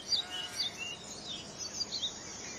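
Faint high song of a pied flycatcher, short thin phrases repeating every half second or so, distant against a quiet woodland hiss in Wales.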